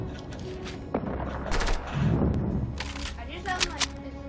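Gunfire in a Fortnite match, a scatter of sharp shots and bursts spread through the clip over a steady game background, with a voice speaking at times.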